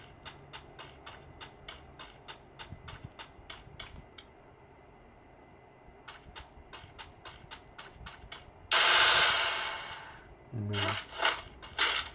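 Gunfire in the video game Free Fire, played on an Infinix HOT 30 phone: rapid, evenly spaced shots crack in quick bursts, pause, resume, then give way to a louder rushing blast and further sharp shots.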